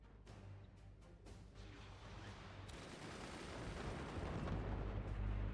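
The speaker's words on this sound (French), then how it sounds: "il nous tire des missiles à l'endroit où on est plus protégé" Missiles striking a fort in the video game Forts, a dense, continuous rumble of explosions and impacts that builds steadily louder toward the end, with no voices.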